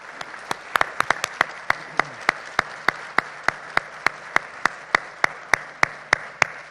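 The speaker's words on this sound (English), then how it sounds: "Let's give our candidates a round of applause," Applause for school board candidates at a county forum comes across as sparse, sharp handclaps at a steady even rhythm, about two or three per second and fairly close, with no voices over them.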